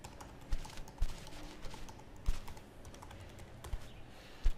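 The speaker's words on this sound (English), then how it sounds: "Now you enter your own password." Computer keyboard keys tapped while a password is entered, five or six distinct clicks spaced irregularly over a quiet background.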